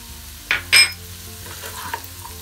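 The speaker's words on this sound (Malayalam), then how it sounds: "ഉള്ളി ഒന്ന് വെന്തതിന് ശേഷം നമുക്ക് ക്യാപ്സിക്കം അതിലേക്ക് ആഡ് ചെയ്ത് കൊടുക്കാം." Onions and capsicum sauté in a pan with a steady low sizzle, broken by two brief spatula scrapes and stirs close by.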